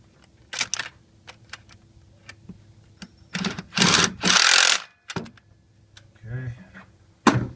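A bracket nut with a spin washer is tightened by hand on a Chevy 4.3 L V6 engine, heard as scattered clicks, ratcheting bursts and metallic rubbing in short uneven spurts.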